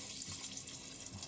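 Water poured into a pressure cooker over soaked rajma kidney beans, a steady running, splashing stream that stays fairly quiet and even throughout, with no talking.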